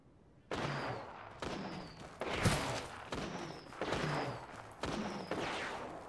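A Fortnite impulse grenade mimicking a gunfight in a video game: about six loud bursts of gunfire, roughly one per second, each a sharp crack followed by a short fading tail, alone without talk.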